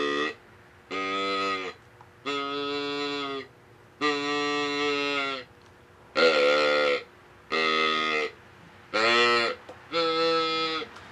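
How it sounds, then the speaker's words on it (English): A series of deer calls blown one after another: deep, drawn-out buck grunts shifting into higher, nasal doe bleats, loud and close with short pauses between. "I can go from a buck grunt right to a doe call"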